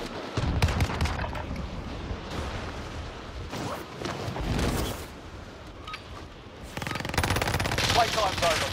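Gunfire in Call of Duty: Modern Warfare, rapid automatic bursts and loud shots in clusters over several seconds with crashes between, voices talking underneath.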